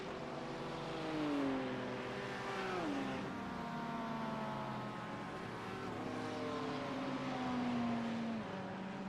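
Race cars lapping the Silverstone circuit during a 24-hour endurance race, engines droning loud and steady with rising and falling pitch as cars pass and shift gears, no voices.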